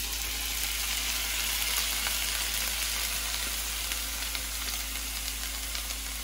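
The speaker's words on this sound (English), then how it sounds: "This is gonna be for us to cook the tomatoes, the onion, and the ham" Tomatoes, onion and ham sauté in a hot pan with a steady, even sizzle and hiss throughout, close and moderately loud, with no talking.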